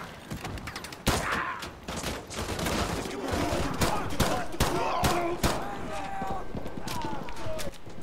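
Pistol shots ring out in a video game, a dense run of sharp cracks fired in quick irregular bursts amid other game noise, with a voice talking over the gunfire.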